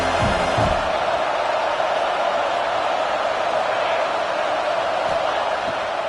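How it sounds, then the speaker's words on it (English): Sustained stadium crowd roar at Saban Field in NCAA College Football 25 on a third down, a dense steady rumble with a few thuds early on and faint voices mixed in. "The Tide crowd rolling noise down onto Saban Field on 3rd down."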